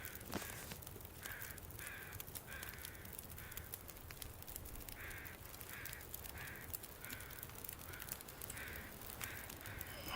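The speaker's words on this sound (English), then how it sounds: "The crows, the sound, the fire." Crows caw in a winter wilderness scene in the survival video game The Long Dark, a steady series of evenly spaced, moderately distant calls over a constant low background wash, with no talk.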